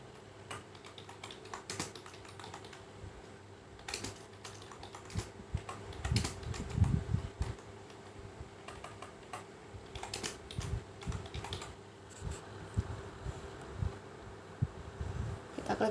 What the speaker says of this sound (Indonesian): kemudian kita ketik judulnya menggambar titik